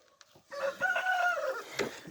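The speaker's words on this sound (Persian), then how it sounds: "یه دونه مرغ سفید دارم" A white hen on a small farm gives a drawn-out, close clucking call lasting about a second, with short sharp farmyard noises before and after it.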